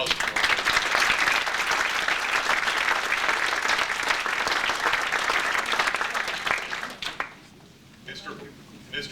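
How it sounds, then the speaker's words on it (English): An audience in a university lecture hall breaks into sustained applause for a benefactor, steady clapping that fades out after about seven seconds, followed by a voice speaking. "I'd like to give a round of applause for him"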